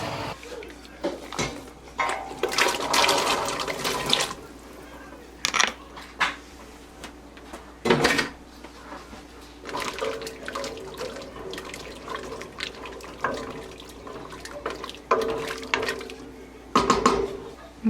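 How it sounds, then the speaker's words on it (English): Carrots go into a pot of pickling liquid on the stove, giving irregular splashes, clunks and clatters of pot and utensils with watery bubbling, close and moderately loud in bursts over about eighteen seconds. "Now I'm going to go ahead and actually add the carrots to this."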